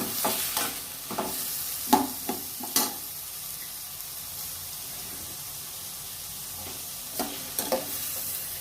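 Cooking oil, about 25 grams, poured into a pan where it sizzles and crackles steadily, with a few sharper stirring clatters near the start and again toward the end, heard close and alone.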